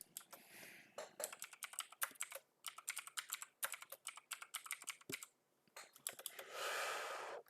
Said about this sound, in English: Type neural network.